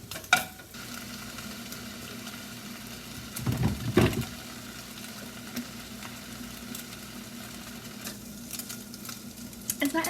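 Bacon frying in a pan while cooking breakfast at home, a steady close sizzle and crackle with a louder spitting burst around the middle, no talking.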